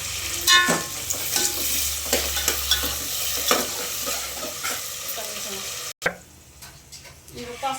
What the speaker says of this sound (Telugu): ఉల్లిగడ్డలు వేస్తాను